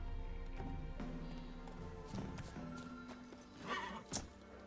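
Roach, the horse in The Witcher game, arrives with a run of quiet clip-clopping hooves, then a brief neigh and a sharper hoof strike near the end, all fairly faint over a low ambient bed.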